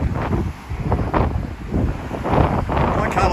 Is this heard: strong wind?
yes